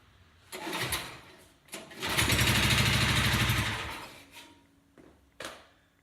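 An old Sears Custom lawn mower's small engine sputters, catches and runs with a steady rough rattle for a couple of seconds, then dies off, followed by a few clanks.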